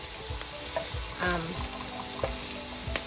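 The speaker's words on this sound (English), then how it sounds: "Now I'm just gonna flip the shrimp to the other side. And I'm using medium-high heat." Shrimp frying in a pan over medium-high heat as they are flipped, giving a soft steady sizzle with a few clinks and scrapes of a utensil against the pan, without speech.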